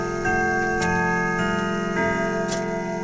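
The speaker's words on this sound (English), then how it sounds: "Godfather clock rings and to mark a new hour." A grandfather clock ticks steadily at roughly even intervals, loud and close, over a sustained tonal drone, with no one speaking.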